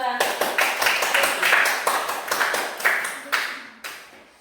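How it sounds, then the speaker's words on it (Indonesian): Schoolchildren in a classroom clap together in a brisk rhythmic pattern, close and loud, the beats spacing out and thinning near the end, with talking voices underneath. "Baik, tepuk tangan dulu untuk"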